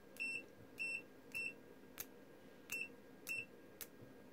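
Continuity beeps from an EEVBlog 121GW digital multimeter, a string of short, sharp electronic tones in quick irregular succession, with faint clicks of the probes in between.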